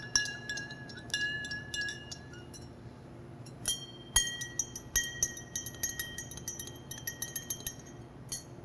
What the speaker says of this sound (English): Stir in the sugar.